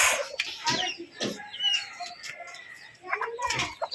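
A hen with her three chicks in a backyard garden gives soft clucks among high chick peeps, heard close and under a person talking.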